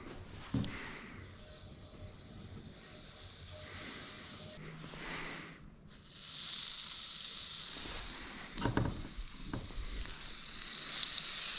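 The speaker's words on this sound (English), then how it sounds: "So I got the butter in the pan and now the heart is going in." Deer heart pieces dropped into hot butter in a pan, giving a loud, steady sizzle and frying hiss that builds after a short pause and carries on alone, with a few stirring clatters.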